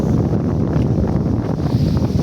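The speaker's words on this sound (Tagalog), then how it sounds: "At mahangin." Steady, loud wind gusting against the microphone, a continuous low rumble with no pauses.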